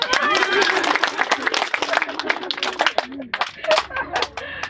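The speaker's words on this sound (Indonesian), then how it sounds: "Jadi tepuk tangan untuk saya." Audience at a groundbreaking ceremony for a PAUD preschool clapping, sharp irregular hand claps close by mixed with voices talking.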